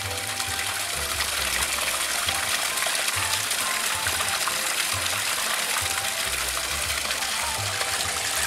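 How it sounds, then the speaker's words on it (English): Waterfall pouring into an outdoor swimming pool, a steady, full rush of splashing water that holds at one even level throughout, with no voices. "The waterfall."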